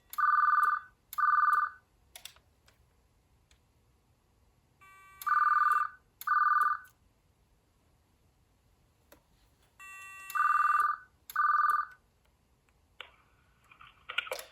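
A telephone connected to an early digital answering machine rings in paired electronic trills, three double bursts spaced several seconds apart, clear and close, with a few soft clicks and beeps between rings and no talk.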